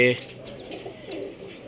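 A female pigeon at a home loft gives a brief, soft coo close by, mixed with faint chirps and a voice talking over it.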